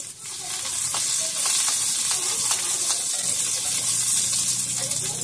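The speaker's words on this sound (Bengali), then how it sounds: "এবারে আমি করলাটাকে ভাজা করে নিচ্ছি।" Bitter gourd (karela) slices fry in a pan of hot oil, giving a steady, close, dense sizzle that continues without pause and without any talking.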